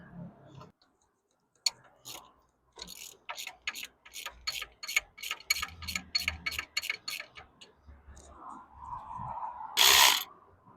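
A cheap hand ratchet clicks in quick, close bursts of sharp ticks while loosening bolts during removal of a 2.0T FSI engine on a driveway, with short pauses between turns and no talking.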